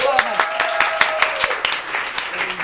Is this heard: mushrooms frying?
no